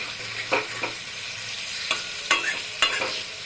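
Hilsa fish pieces frying in a pan, a soft continuous sizzle with a few brief scraping clinks as the pieces are turned, close and fairly quiet.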